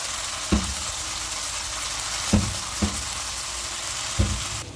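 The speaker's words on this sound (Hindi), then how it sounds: "चिकन मलाई बोटी बहुत अच्छे तरीके से कुक हो रहा है।" Chicken malai boti fries over a low flame with a steady, even sizzle. Four soft knocks of a utensil against the pan sound at irregular intervals, with no talking.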